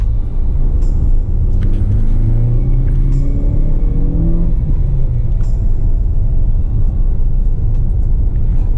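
A Hyundai Creta drives uphill on a road toward Poutathum in Nepal, with a steady loud engine rumble and strain filling the cabin, gear-like pitch shifts and occasional rattles throughout, and no talking.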